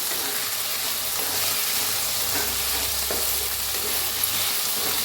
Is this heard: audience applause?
no